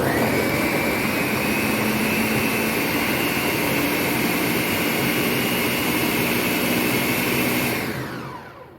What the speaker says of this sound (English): We're gonna blend these.